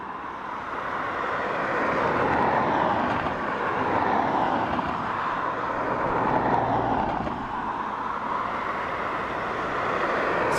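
A Norwegian Air airliner at Dublin Airport makes a continuous mid-distance jet roar, swelling and easing gently over several seconds with a low rumble beneath, no talking.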